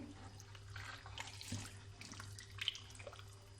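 Cooking oil pours in a steady, soft liquid stream into a container of homemade mango pickle, close but faint, with a low background hum and a few small splashes.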